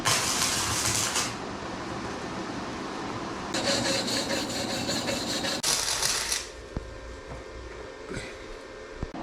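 Metal exhaust pipe being scuffed by hand before tack welding, a rough, raspy rubbing that comes in bursts with pauses, fairly close and steady, then quieter scrapes toward the end.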